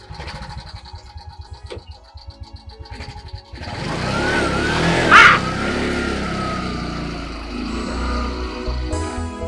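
A motorcycle engine idles in rapid pulses, then revs up and roars away, staying loud and close with a brief peak mid-way before settling into a steady drone.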